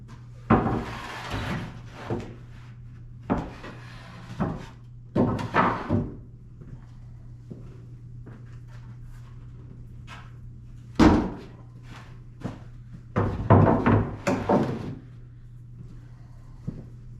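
Wooden boards for a rustic sliding barn door are assembled, giving sharp knocks and bangs in irregular bursts separated by quieter gaps, loud and close with no talking.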